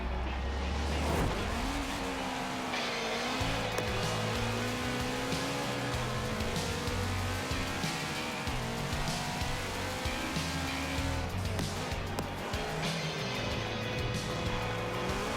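A tuned Toyota GT86 with an FA24 turbo engine races around a track in Forza Horizon 4, its engine loud and continuous, revving up and shifting through gears with tire squeal, and no talking.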